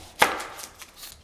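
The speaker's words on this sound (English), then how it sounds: "So I'm going to chop these up into wee dices." A knife chops onions on a cutting board, giving one sharp, close chop followed by a few fainter taps.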